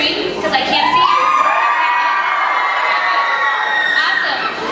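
Loud, sustained screaming and cheering from an audience of children, a high, bright wall of shrieks and whoops lasting several seconds.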